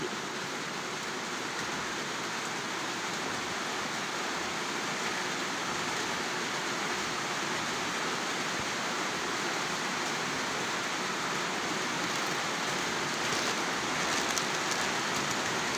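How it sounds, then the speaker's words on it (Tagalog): Steady rain pours down outdoors at a home in the Philippines, a dense, even hiss that holds without a break and carries no voices. "Ayan, umulan."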